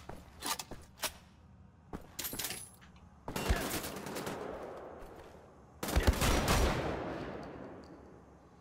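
Gunfire in the video game Wolfenstein: The Old Blood, with sharp single shots at first and then long loud rattling bursts of automatic fire, without talk.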